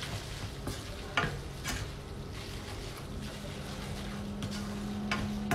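Tomato pasta loosened with a splash of pasta water is stirred in a pan, quiet sizzling under a series of soft scraping and clinking strokes from the spoon, fairly faint and unaccompanied by speech.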